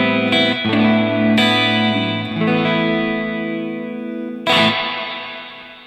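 Distorted electric guitar chords ring out through a drippy spring reverb from a NUX Tape Echo pedal, a few strikes decaying with a long, splashy tail.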